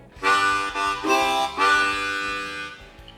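Blues harp harmonica chords, holes 1, 2 and 3 blown together, pulsing in a chugging train rhythm, a few strong breathy bursts that fade toward the end, played alone and close.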